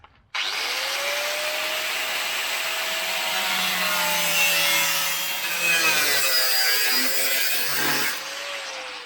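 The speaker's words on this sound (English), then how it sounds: "I think I might just put the angle grinder on it" An angle grinder cuts through the rear body sheet metal of a GU Patrol during a quarter chop, a loud, harsh, continuous shriek that starts abruptly and holds for several seconds at close range.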